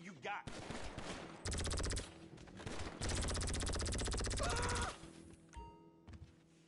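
Gunfire in GTA V Online: long bursts of rapid automatic fire alternate with short pauses, loud and close, breaking off near the end into scattered game sounds.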